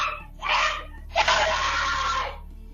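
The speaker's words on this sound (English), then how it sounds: "Stop screaming in front of me." A person screams twice during a domestic confrontation caught on police bodycam, first a short harsh burst and then a longer, sustained raw cry, both loud and close.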